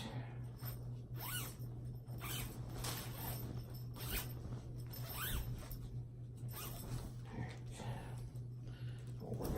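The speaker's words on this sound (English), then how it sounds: "There's the actual zip of the zipper." A zipper on a Zinus mattress foundation cover is pulled open in a long series of rasping zips, each stroke rising and falling, close up over a constant low hum.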